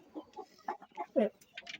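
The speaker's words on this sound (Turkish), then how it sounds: "Tavuklar var ama tavuklar şimdi etrafımı sardı." Several chickens clucking close by in a coop, short irregular clucks and squawks with brief gaps between them.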